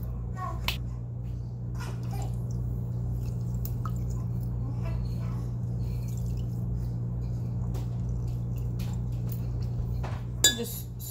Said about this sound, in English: Just stir it with a knife.